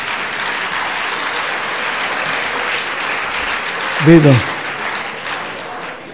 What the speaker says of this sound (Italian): Capisco che applaudano le donne